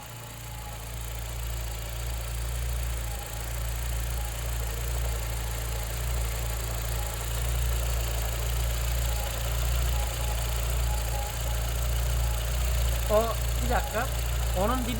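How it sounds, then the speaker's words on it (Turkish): A Fiat Tipo with a 1.6 MPI engine idles on petrol in a steady, even low hum that continues unchanged throughout, with a brief faint chirping sound near the end. "Değerli dostlarım şimdi araba benzinde çalışıyor. Bir bakalım rölantisine."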